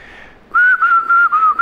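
A single person whistles a short melodic phrase on stage at a comedy talent audition, starting after a faint held tone, with several sustained notes in a steady rhythm, loud and close with no talk.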